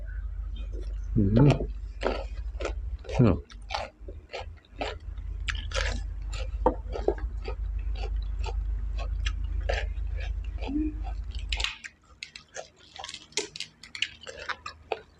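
Crunchy chewing of Thai spicy salad with mantis shrimp close to the mic, a steady run of crisp bites and crunches with a low hum underneath that cuts off near the end.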